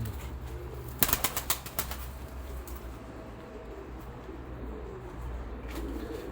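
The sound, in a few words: pet birds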